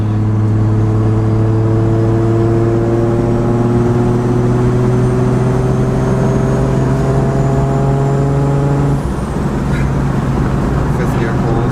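A big-turbo RB25-swapped 240SX pulls hard in fifth gear, its engine drone climbing steadily in pitch for about nine seconds from inside the cabin, then dropping off as the throttle lifts, with road and wind roar throughout.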